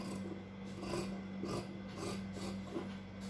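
Blouse fabric is cut at the shoulder in a series of soft, rhythmic rasping strokes, quiet and close, over a steady low hum.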